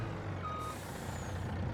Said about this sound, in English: This is a base game truck, not a modded truck.